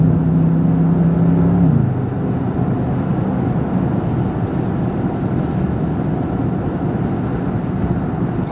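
A 2021 Bentley Continental GT V8 accelerates while driving, a steady loud engine drone whose low pitch drops after about two seconds, as if shifting gear, then holds a broad, rumbling roar with road noise.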